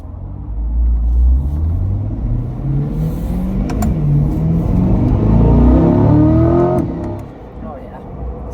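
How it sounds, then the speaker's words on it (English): Road traffic as a loud, continuous low engine rumble with a vehicle audibly accelerating and rising in pitch, then easing off toward the end. "It's traffic right now."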